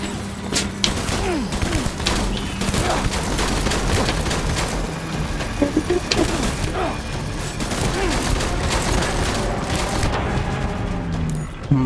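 Shotgun blasts and combat noise in Death Stranding, a dense barrage of loud booms and crashes packed closely together through the whole stretch, with occasional speech mixed in.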